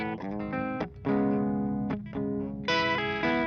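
Electric guitar played clean through an Orange amp with the tubby switch engaged, a run of sustained chords and single notes with full, rounded body, close and loud, each change sharply attacked.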